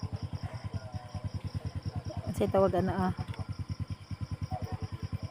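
Motorcycle engine throbbing steadily throughout with a regular pulsing beat, loud and close, while people talk over it.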